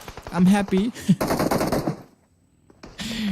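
Rapid bursts of M762 rifle fire in a PUBG Mobile esports match, close and punchy, with a second volley after a brief pause, mixed with loud commentator talk.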